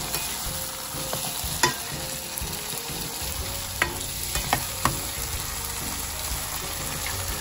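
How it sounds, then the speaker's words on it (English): Steady sizzling and frying hiss from fish in a hot pan, with occasional light clinks of a utensil. "that's our fish sizzling away."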